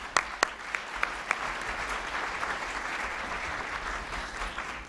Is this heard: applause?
yes